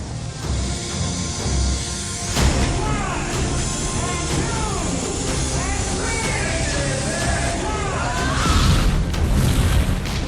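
Nuclear explosion scene from the film Terminator 2: a continuous loud, dense rumbling roar with booming swells, crackling debris and sweeping whistling tones, building to a heavier surge near the end.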